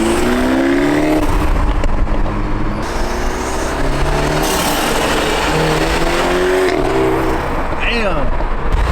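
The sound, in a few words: BMW 330 G20 with resonator delete revving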